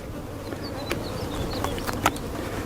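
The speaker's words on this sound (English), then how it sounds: "I got like 2 bees buzzing my head here." Honeybees buzz close by during a hive inspection, a thin droning hum that drifts up and down in pitch, with a few soft clicks and taps in the background.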